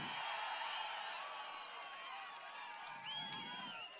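A crowd at a political rally in Andhra Pradesh cheers and shouts together, a sustained wash of many overlapping voices heard at a moderate distance and fairly faint.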